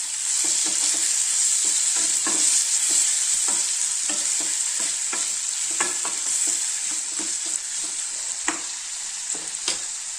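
Capsicum sautés with a little salt in a pan for capsicum rice, a continuous hiss and sizzle broken by frequent, irregular spatula clicks and scrapes, fairly close and loud, with no voices.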